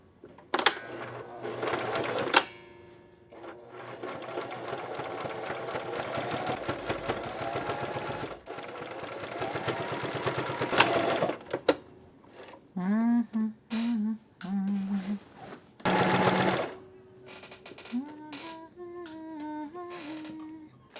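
A sewing machine stitches mending in bursts, a loud rapid whirring run at first, then several shorter stop-start runs with small mechanical clicks and pauses between them.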